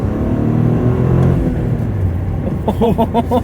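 A Toyota hatchback engine pulls hard under throttle, a loud close rumbling drone that climbs and then eases, with faint whooshing boost noises at the end.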